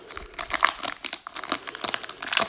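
A Hanuta bar's wrapper is torn open and crinkled up close, loud rustling and crackling bursts in quick irregular succession with no speech.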